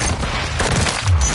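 Gunfire crackles in a first-person shooter match while a sniper rifle is used, dense bursts of shots and booms layered together, loud and close, with a heavier thump near the end.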